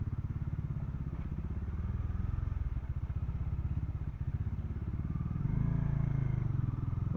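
A Bajaj Dominar 400 motorcycle rides over a rough, broken road, its engine thrumming steadily and loudly up close, with the note swelling as it pulls harder near the end.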